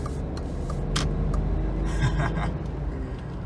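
A 2000 BMW 323Ci convertible drives along with a smooth, steady engine hum and low road rumble heard from inside the cabin, with a few faint clicks and rattles over the top.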